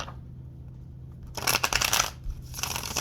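Tarot cards are riffled and shuffled in two quick bursts of papery flutter, close by, following a short quiet pause.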